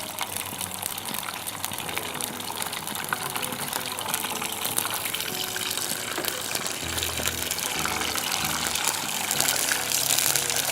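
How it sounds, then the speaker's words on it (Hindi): Water and oil heating together in a pan hiss and sizzle loudly and steadily, a dense bubbling rush that stays close and constant throughout without any talk over it. "पानी और तेल मिला है ना, इसलिए वो आवाज़ कर रहा है।"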